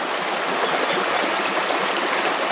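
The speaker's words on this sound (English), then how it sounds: "So the water comes round the corner, round this elbow here from the actual weir" Steady rush of water pouring from a weir around a bend into a large pond, a continuous broadband stream that stays loud and even throughout with no voices.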